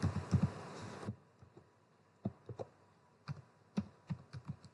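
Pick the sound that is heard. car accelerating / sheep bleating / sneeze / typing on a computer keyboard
typing on a computer keyboard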